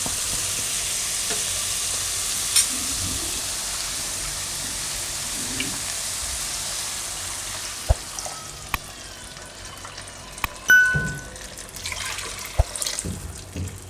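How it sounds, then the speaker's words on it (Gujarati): Water poured into a pan of cooked carrots, tomatoes and onions for a Gujarati mixed-vegetable khichu: a steady hissing sizzle throughout, with a few sharp clinks and splashes near the end. "તો હવે આપણે એમાં નાખીશું પાણી."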